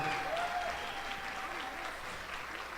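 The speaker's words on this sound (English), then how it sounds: "huge round of applause for" Applause fills a scholarship gala banquet at a casino: a dense, even wash of many hands clapping at moderate volume, sustained throughout and slowly easing, with a faint whistling tone early on.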